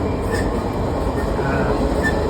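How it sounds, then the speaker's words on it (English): Loud, steady rumble of a fast-moving passenger train in Canada heard from inside a carriage, with a constant low roar and faint rattles and squeaks. "the train's clocking along pretty quick"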